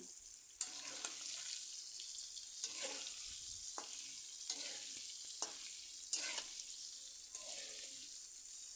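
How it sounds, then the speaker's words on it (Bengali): Potato and cauliflower pieces fry and sizzle in hot oil while being stirred and mixed in a pan, a steady hiss broken by several sharp scraping stir strokes, close and alone. "এবার তেলের সাথে আমি আলু ফুলকপি ভালো করে মিশিয়ে নিচ্ছি"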